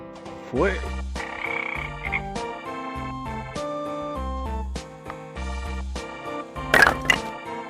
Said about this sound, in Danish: Frø.